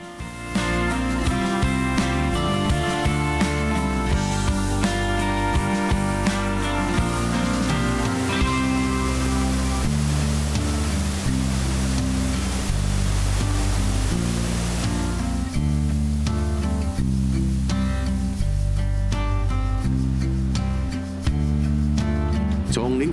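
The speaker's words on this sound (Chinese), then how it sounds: "在我后面的就是菱角大瀑布" The Lingjiao waterfall in Pingxi, Taiwan, a small, little-visited cascade near a rock grotto, rushes as a steady, broad wash of falling water under continuous background music.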